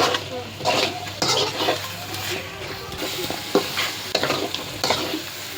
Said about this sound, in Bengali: তারপরে এই মশলা দিয়ে আবার আরেকবার ভেজে নেওয়া হবে।